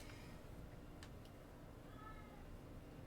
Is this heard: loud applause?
no